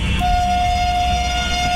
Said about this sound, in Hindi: अभी हम लोग हॉर्न बजाकर डिपार्ट करते हैं